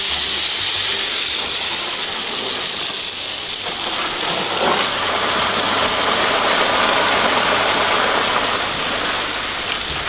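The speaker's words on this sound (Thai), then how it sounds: "นี่วิธีให้น้ำสวนลูกหนึ่งคือให้แบบเหมือนคล้ายๆฝนตกอ่ะ" High-pressure water spray hitting orchard trees from below up to the treetops, a loud, steady broadband hiss and patter like heavy rain that runs unbroken for the whole stretch with no talk.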